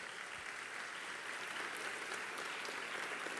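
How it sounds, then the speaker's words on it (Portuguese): Steady applause from a church congregation, a dense, even patter of many hands clapping throughout, fairly distant and sustained without pause. "Eu vou pedir um aplauso à vida dessas pessoas que aqui estão"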